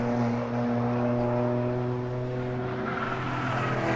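GT race cars on DOT tires work through high-load corners at Road Atlanta, a steady loud engine drone with strong low harmonics holding throughout, tire noise mixed in, no talk.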